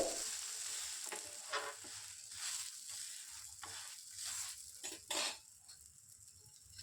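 Corn and vegetable rotti (sweet corn) cooking on a tawa over a low flame gives a steady, faint sizzle with occasional brighter crackling bursts, heard alone without talk.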